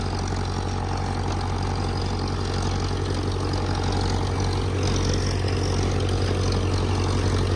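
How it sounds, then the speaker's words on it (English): Old tractors plowing at a plow day, with a Super A and a D4 among them, give a loud, steady low engine drone with a throbbing idle-like rumble throughout. "they're such awesome tractors to listen to"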